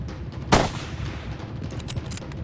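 A single sharp .375 rifle shot fired at a Cape buffalo on a Tanzania safari, a loud close crack followed by a brief decaying echo over outdoor background noise.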